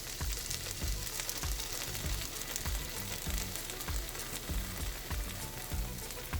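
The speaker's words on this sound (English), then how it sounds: "We need to caramelize the paste at this point." Fermented chili bean paste sizzles and caramelizes in a hot pan, a steady, close frying hiss with rhythmic scraping stir strokes throughout, no talking.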